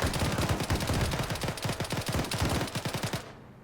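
Rapid gunfire in the video game Arma 3 during a naval invasion battle, dense overlapping automatic bursts with heavy low thumps, loud and continuous before stopping abruptly.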